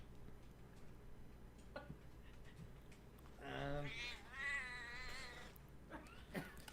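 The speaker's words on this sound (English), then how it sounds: "This cat gets all pissed." An angry cat yowls as it is grabbed, letting out a couple of drawn-out, rising caterwauls at close range against a quiet background, followed by brief rustling.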